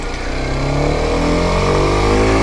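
A Kawasaki Ninja 125 motorcycle engine while riding in third gear, a loud close buzzing drone whose pitch climbs steadily as the revs rise.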